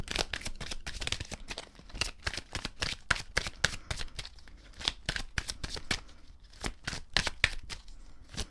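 A deck of cards is shuffled and pulled at close range: a quick, uneven run of crisp flicks and riffles continues throughout with no talking.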